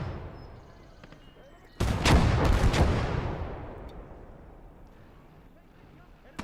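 A mortar shell lands in the video game Gates of Hell, a sudden heavy blast followed by a long rumbling decay, after quieter background and with a voice talking.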